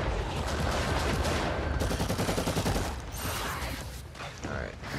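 Rapid, dense gunfire from Warhammer 40k Eternal Crusade in a PVE lair fight, with a Devastator laying down suppressing fire. The sound is a loud, continuous burst lasting several seconds that then thins into scattered shots and clanks.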